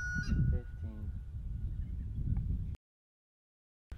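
Farm fowl cackle and honk nearby amid a busy background for a few seconds, and then the sound abruptly cuts to silence.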